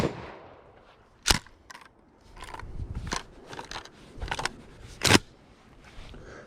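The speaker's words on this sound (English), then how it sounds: "Let's just shoot this silhouette right in the stomach." Gunshots ring out on an outdoor shooting range as rounds are fired at steel targets and a silhouette, with four or five sharp, loud cracks spaced irregularly and several fainter impacts and handling noises in between.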